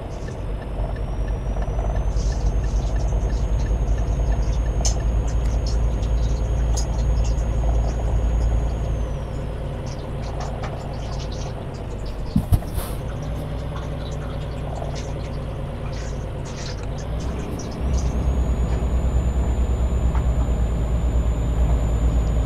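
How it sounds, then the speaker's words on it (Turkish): A Volvo F10 truck's engine idles steadily and deeply with a low rumbling drone and faint high whine, briefly dipping midway before resuming; no voices. "Motor sesi filan. Ne güzel ya."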